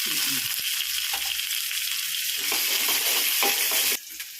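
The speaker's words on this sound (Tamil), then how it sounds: "லவங்கம் இவ்வளோ வெங்காயம் போடுறேன் ரெண்டு கருவேப்பிலை பாருங்க கருவேப்பிலை" Onion and curry leaves sizzling in hot oil as they fry, a steady broadband hiss with faint stirring scrapes through most of the clip, ending in a quieter drop near the close; no talk heard.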